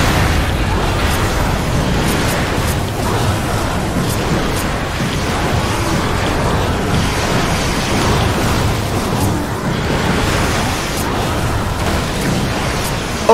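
Booming cannon blasts in the video game Darksiders Warmastered Edition, a dense continuous roar of loud explosions and rumbling noise filling the whole stretch without letup.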